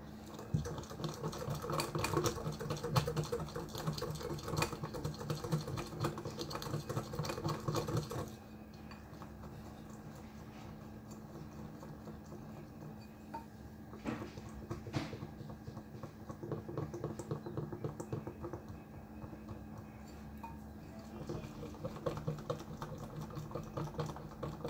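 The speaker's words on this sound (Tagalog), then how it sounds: "Kailangan mo siya i-whisk ng maraming beses, 400 times." Dalgona coffee mixture being whisked by hand many times, a dense, rapid rattling and scraping that runs steadily throughout, louder for the first eight seconds and then a little softer.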